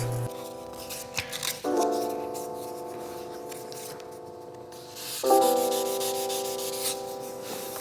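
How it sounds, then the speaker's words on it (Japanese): Sandpaper rubs back and forth over a hard-wax-filled scratch in wooden flooring, giving short, scratchy, close-up strokes in uneven bursts over steady tonal background music, with a louder stretch of rubbing near the middle. "サンドペーパーの旋盤で傷の上をこすって面を出そうとしています。"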